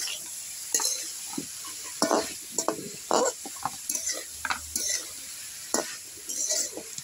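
Bitter gourd and potato fry with shrimp in a pan, turmeric and salt added, a steady sizzle broken by a spatula scraping and clinking against the metal again and again.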